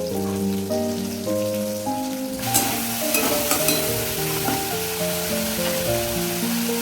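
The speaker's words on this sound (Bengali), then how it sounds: "এইবার আদা বাটা দিয়ে দেবো এবার টমেটো কুচানো দিয়ে দেবো কাঁচা লঙ্কাও দিয়ে দেবো নুন দিয়ে দেবো যাতে টমেটোটা ভেজে যায়" Chopped tomato, ginger paste, green chili and salt hitting hot oil in a pan, bursting into loud, close sizzling and crackling that continues steadily, with soft music playing in the background throughout.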